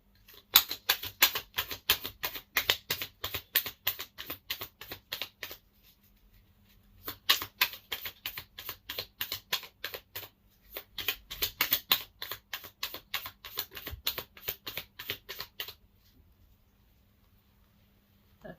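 Tarot cards being shuffled, three long bursts of rapid riffling clicks separated by short pauses, close and crisp with no voices.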